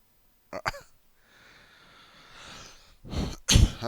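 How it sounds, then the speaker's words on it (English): A person coughs or sneezes nearby, two short sharp bursts at first, then a pause with light breathing, and two louder explosive bursts at the end. "try not to cough in your ears"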